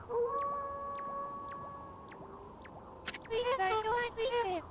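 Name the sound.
Kimu's howl in video game Okami HD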